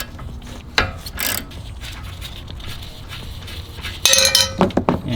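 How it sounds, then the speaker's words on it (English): A 16 mm ring spanner and a T30 Torx tool work loose a suspension bolt on a BMW M2 while it is being lowered on H&R Sport springs. Close metallic clanks and ratcheting clicks come in bursts, with a denser cluster near the end. "We have the ring spanner on one side and the T30 torque screw on the other."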